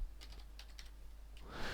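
Quick, soft clicking on a computer keyboard while typing in software, a run of close, light keystrokes in an uneven rhythm over a low steady hum, with no talking.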